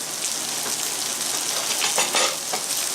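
Egg stir-fried with vegetables in a pan for a Filipino-style bibimbap, loud continuous close sizzling with bursts of spatula scraping and stirring toward the end, no voices.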